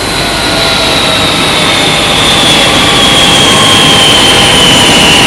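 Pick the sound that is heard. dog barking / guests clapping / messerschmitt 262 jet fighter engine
messerschmitt 262 jet fighter engine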